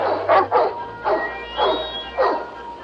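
Dogs in a movie scene give a series of about five short barks and yips at a steady rhythm, fairly close and loud, with a whimpering edge and a low background hum.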